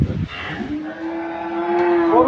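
A dairy cow moos once in a long, drawn-out, steady low call that swells slightly louder toward the end, close by with no talking.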